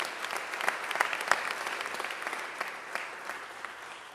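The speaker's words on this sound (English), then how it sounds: "So let's give them a round of applause as well." A round of applause from the audience at a Louisville Heritage West development agreement event, steady scattered clapping that continues for several seconds with little talk.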